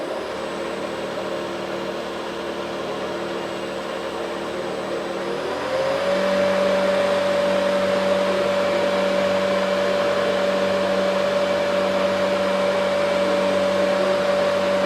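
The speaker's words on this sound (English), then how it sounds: "and we start the motor." An electric motor driven by a VFD controller starts up, its steady hum rising in pitch after a few seconds and then holding a constant loud whine.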